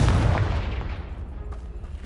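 Confringo spell explosion in Hogwarts Legacy, a single loud deep boom that decays into a rumbling tail over about two seconds.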